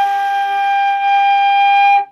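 Flute sounding a sustained high G, one steady clear tone held for about two seconds, close and loud, then cut off cleanly.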